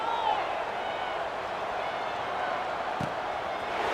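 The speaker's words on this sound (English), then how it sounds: "I hear some boos in the crowd right now" A stadium crowd in the video game College Football 26, at an Arkansas State dynasty game, gives a sustained, broad wash of booing that hangs steadily in the background at moderate distance, with a brief thud near the end.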